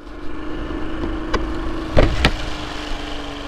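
A kick-start-only motorbike with a broken starter motor rides along an overgrown, leaf-strewn road in Okinawa, its engine a steady low drone with a few sharp clunks and rattles partway through.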